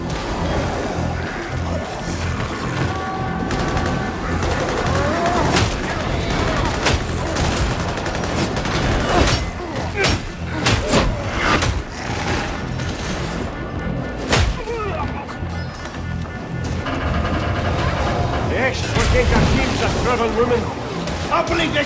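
Dense gunfire and crashing impacts fill a chaotic firefight in Warhammer 40,000: Darktide, with sustained volleys and loud individual shots over a constant roar of combat noise.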